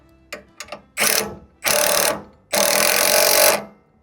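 A ratchet wrench tightens nuts on a 7 hp horizontal-shaft gasoline outboard motor, a few light clicks followed by three longer bursts of rapid ratcheting, close and loud, with no talking.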